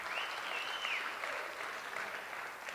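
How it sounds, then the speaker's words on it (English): Wedding guests applauding after a toast, a steady wash of many hands clapping at moderate distance, sustained without pause for the whole stretch. "Big round of applause."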